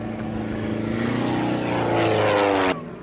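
Vintage biplane flying an aerobatic display at the 1986 RAF Halton airshow, its propeller engine droning loud and steady before cutting off abruptly near the end.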